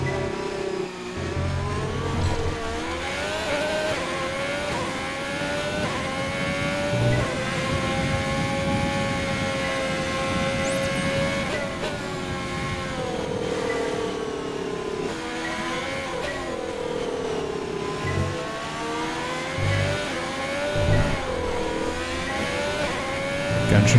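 Formula 1 race car engine in the video game F1 2020 during practice at the Chinese Grand Prix in Shanghai, a continuous high-pitched whine rising and falling through gear changes and throttle lifts for the whole stretch.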